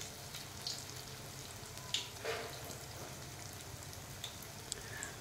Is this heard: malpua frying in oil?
yes